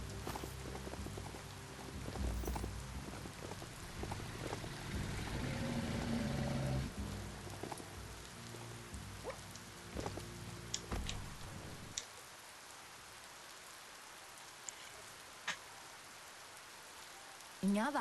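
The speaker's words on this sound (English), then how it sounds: "Is the rain supposed to worry me for some reason?" Rain in the video game Biomutant, a steady patter with scattered ticking drops and some low game rumble, cutting abruptly to a quieter dripping ambience partway through, with occasional sharp clicks.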